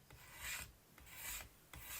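Rhythmic rasping strokes of sandpaper on a wooden guitar body, three long back-and-forth passes, close and fairly quiet with brief pauses between them.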